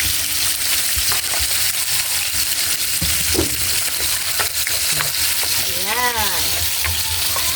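Garlic and onion sizzle and crackle steadily in a hot pan as a vegetable sauté begins, with occasional stirring scrapes and a brief spoken word over the frying.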